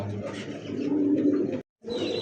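A pair of Pakistani high-flyer Tiger pigeons offered for sale coo in low, rolling notes, steady and fairly near, with a brief silent gap before the cooing resumes.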